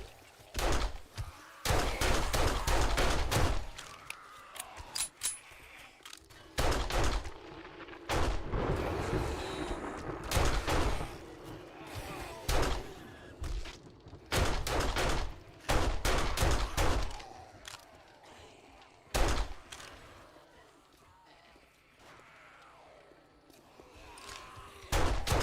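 Pistol shots ring out in the survival game 7 Days to Die, a series of loud, sharp cracks spaced irregularly across a quieter background of ambient noise and footsteps.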